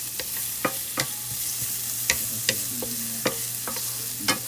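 Loofah gourd tossed into a hot pan with onion: a soft background sizzle broken by sharp, scattered scrapes and clacks of a utensil stirring, about a dozen distinct knocks spread unevenly.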